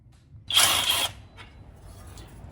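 One short burst of a power tool backing out a 15 mm bolt, a loud whirring spin of about half a second close by, followed by faint mechanical clicks.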